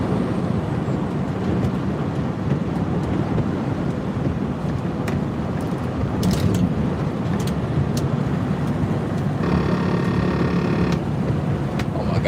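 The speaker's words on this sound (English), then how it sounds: "got that lane departure thing" A car's lane departure warning sounds while the car drives west on I-76 through snow in Pennsylvania. A buzzing warning tone lasting about a second and a half rises over constant loud road and wind roar near the end.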